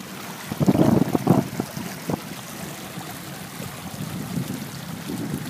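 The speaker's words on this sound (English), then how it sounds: "Here's a wave." A wave rolls in with a soft, rushing wash that swells early and then fades into a steady, low surge of water and wind noise. The wave is fairly close and heard alone.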